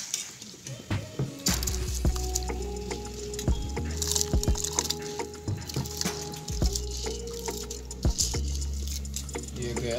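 Rice grains tipped into a pot of water while cooking jeera rice give a soft, close patter with wet splashing, set against a steady low kitchen hum.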